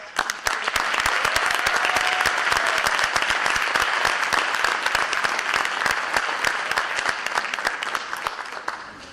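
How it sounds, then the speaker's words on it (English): A high school scholarship and awards night audience gives sustained applause, with many hands clapping densely and loudly before the sound gradually tapers near the end. "Please join me in a round of applause recognizing these students with us."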